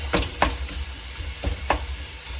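Ground meat browning in a pan on a home stovetop, with a low steady sizzle broken by several sharp scraping strokes of a utensil across the pan.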